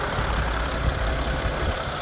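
Three-litre diesel engine of a 2017 Mercedes-Benz Sprinter refrigerator van with 190 horsepower, idling steadily with an even low rumble and slight knock, close and continuous with no talk.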